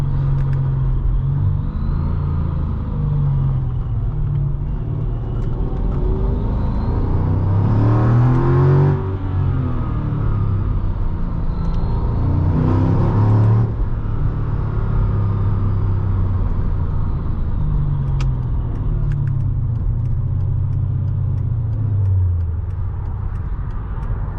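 A 2006 Mercedes-Benz E55 AMG W211 with its supercharged engine pulls hard under acceleration, a loud, steady low rumble that climbs in two distinct surges as revs rise, heard from inside the car with no talking.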